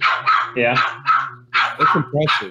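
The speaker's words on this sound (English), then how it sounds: "Sorry, guys. That's my dog." A pet dog barks in short bursts through a casual group conversation on an HVAC trade talk show, the yaps close and loud, mixed in with people talking.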